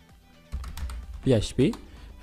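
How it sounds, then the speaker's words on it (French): Keystrokes on a computer keyboard, a quick run of light taps close by, with a voice speaking over the latter part. "Le dossier, je tape juste L-PHP."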